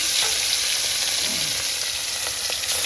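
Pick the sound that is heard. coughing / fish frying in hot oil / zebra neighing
fish frying in hot oil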